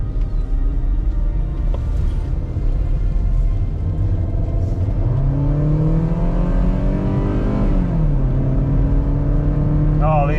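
A Kia Rio with a worn timing belt drives and accelerates, its engine drone rising in pitch as it gains speed, then dipping and climbing again under steady road rumble, loud and close from inside the car.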